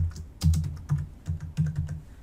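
Keystrokes clatter on a computer keyboard while a message is typed into a class stream post, in short irregular bursts of close, crisp clicks with brief pauses between, no voices present.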